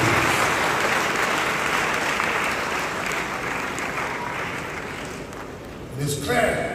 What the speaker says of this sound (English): they deserve a huge round of applause for these remarkable